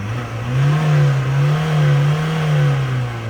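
Ford Ranger engine with an SID212 ECU and a DPF-delete emulator fitted, running with a steady, close, low drone that swells gently a few times as the throttle is blipped.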